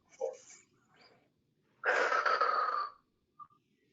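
A person takes a deep, audible breath, a long airy inhale-exhale swell after a few softer breaths, close and quiet surroundings.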